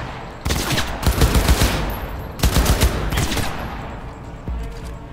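Automatic gunfire from a heavy-recoil gun in Cyberpunk 2077 comes as loud, close bursts of rapid shots, three or four sustained volleys with short gaps between them and no talking.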